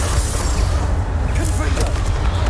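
The Confringo fire spell in Hogwarts Legacy lets off dense, rumbling blast impacts that stay loud and close throughout, with a crackling burst partway through.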